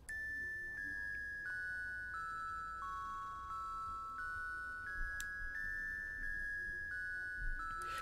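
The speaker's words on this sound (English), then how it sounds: "It's just basically a square wave pluck" Square wave pluck preset called Broken Dreams on a Jupiter 8 plugin, a soft, lo-fi melody of sustained, bell-like synth notes stepping through a short phrase, fairly quiet over a faint hiss.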